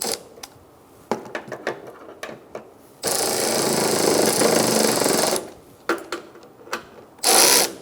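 Bolts being tightened on a 2004-2009 Mazda 3 front strut assembly: rapid ratchet clicks in short bursts, a sustained loud buzzing run of a powered tool for a couple of seconds, then more clicking and a brief final burst.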